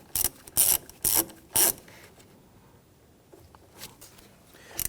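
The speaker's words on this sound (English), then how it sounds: "Snug down the securing nut here." A hand ratchet snugging down the securing nut on the positive battery terminal of a 2011-2015 Kia Sorento 2.4L, giving four quick, loud clicking bursts up close, then quiet with faint small knocks.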